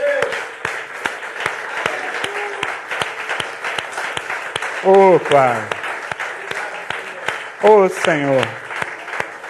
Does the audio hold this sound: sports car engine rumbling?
no